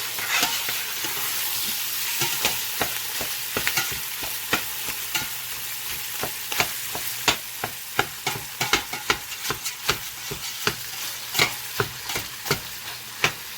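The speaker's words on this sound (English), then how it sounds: "I'm going to continue browning this sausage" Sausage browns in a soup pot for a Zuppa Toscana, with a constant sizzle and frequent sharp spoon-scraping clicks from stirring that grow busier as it goes on.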